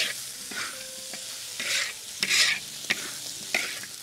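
A utensil scrapes and clinks through Javanese fried noodles with egg frying in a pan, with steady sizzling and irregular stirring strokes close up.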